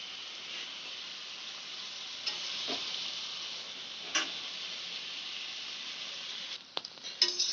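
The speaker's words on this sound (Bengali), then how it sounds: "এইভাবে চিকেনটাকে ভালো করে আমি কষিয়ে নেব" Chicken being stir-fried over high flame for a burnt-chilli chicken dish, a steady frying sizzle with occasional scrapes and clacks of a utensil stirring in the pan, louder clatter toward the end.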